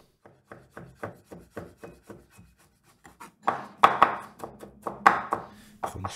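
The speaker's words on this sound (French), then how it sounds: "Ensuite, je vais hacher des cornichons." A knife chopping cornichons on a board for tartare sauce, a steady run of light rhythmic taps that turns into louder, quicker, clustered chops.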